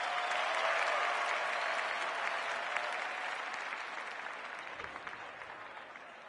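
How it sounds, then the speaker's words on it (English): Women's Australian rules football crowd at a Claremont match roaring and applauding loudly in a sustained wash of clapping and cheers that slowly fades over several seconds, with no clear talk. "The crowd noise tells you all you need to know."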